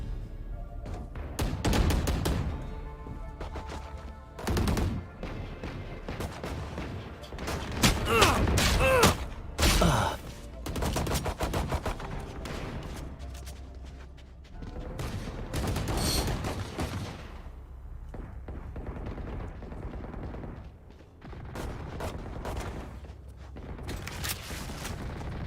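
Bursts of automatic gunfire and scattered shots in a video game deathmatch, recurring in irregular volleys across the stretch with quieter gaps, some bursts loud and close.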